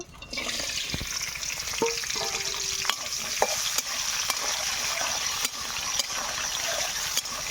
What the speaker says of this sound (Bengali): প্রথমে আমি চুইঝালগুলো ভেজে নেব।